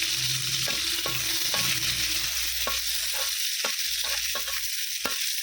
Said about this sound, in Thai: พอกระทะแห้งเราก็ใส่เนย